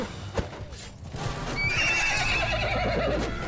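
A horse in the video game Mount & Blade 2: Bannerlord whinnies loudly over the sound of a battle, with hoofbeats and a clamor of combat continuing around it for several seconds.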